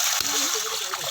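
Liquid is poured out and splashes in a continuous rushing wash, close and fairly loud for about a second, with a voice speaking faintly underneath.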